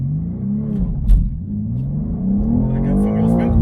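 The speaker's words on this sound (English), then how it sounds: "I got some wheel spin." A 2023 BMW M2 launches from a standstill with a loud, rising engine roar and a brief thump near the start, the revs climbing steadily and staying close and loud throughout.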